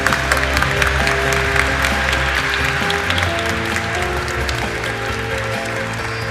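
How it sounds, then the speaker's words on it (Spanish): An audience at a congress applauds to welcome a speaker onto the stage, a loud, dense burst of clapping that starts strong and tapers gradually while low music-like tones hum beneath it. "Recibamos con un fuerte aplauso a Denise Nachmanovitz."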